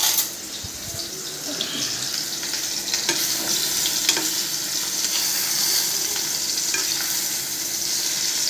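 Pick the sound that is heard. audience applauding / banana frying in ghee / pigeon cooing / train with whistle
banana frying in ghee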